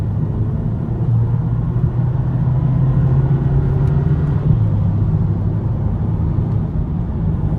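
A Volkswagen Polo GTI Black Style Edition is driven on a road trip, heard as a loud, even low engine and road drone from inside the car that swells slightly midway, with no talking.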